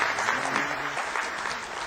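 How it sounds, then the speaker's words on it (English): An audience claps steadily in a warm, dense round of applause welcoming a speaker to the stage, the sound sustained and even from start to finish with no voices over it. "Please help me in welcoming Mr. Sam Pitorda with a warm round of applause."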